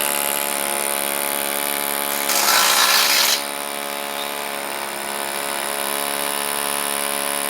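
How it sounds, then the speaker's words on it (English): A power drill bores into brick for a wall tie in one short, loud burst of about a second, rising above a steady mechanical hum that continues before and after. "I'm now going to drill"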